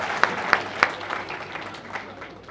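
Indoors at a dental institute inauguration event, three loud distinct claps ring out, followed by a few scattered, fainter claps from a small audience, with voices murmuring faintly in the room.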